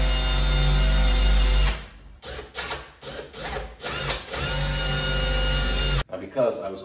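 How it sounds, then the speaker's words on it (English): Power drill boring a screw hole in a wall for a flat-screen TV mount, a loud steady motor whine that cuts off, followed by scattered knocks and rattles, then a second burst of drilling. "when we drill the hole to put this screw in after"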